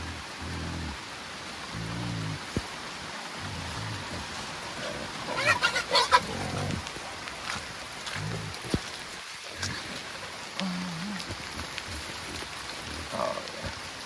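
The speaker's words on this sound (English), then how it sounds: "Good rain now." Rain falls steadily outdoors on a wet day, a soft continuous patter on surfaces, with occasional frog-like croaks and animal calls breaking through now and then.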